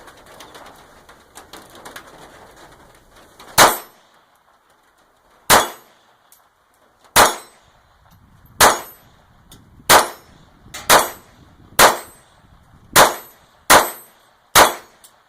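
Ruger SR22 .22 pistol firing at orange plates, nine sharp separate shots after a quiet stretch, at first spaced apart and then coming in a faster, fairly even rhythm, close and loud.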